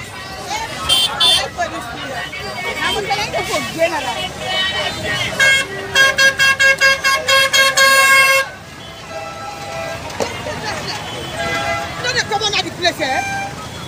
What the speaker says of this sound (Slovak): to trúbenie ma strašne zničí.